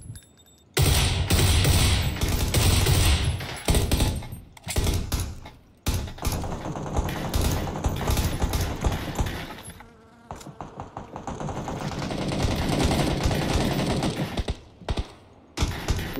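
Rapid bursts of automatic gunfire in the battle-royale game PUBG, crackling in dense volleys separated by short lulls, loud and close throughout.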